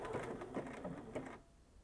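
A Bernina S-325 sewing machine stitches bar tacks, giving a quick run of faint rhythmic mechanical thumping that stops after about a second and a half, close but quiet.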